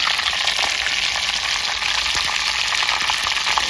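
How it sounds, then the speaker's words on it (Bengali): Hot oil sizzles and crackles in a pan in a steady, bright hiss with small pops scattered throughout, close and without voices. "তেলটা ফাটিয়ে দিলাম, কাঁচা তেলে ভাঁজটা ফাটবে না।"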